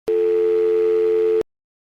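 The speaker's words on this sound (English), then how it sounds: "That was an interesting sounding phone call." A single steady electronic telephone tone lasting just over a second, loud and pure with a clean start and stop, marking a phone call ending in the video game Night Shift at Gerald's: Reimagined.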